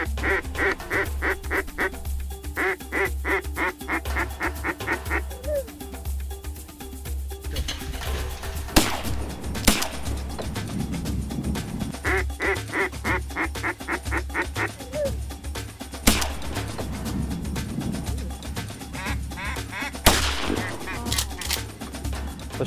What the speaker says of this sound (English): Shay and Mia were able to get off multiple shots that morning